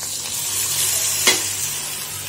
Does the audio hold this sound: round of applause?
no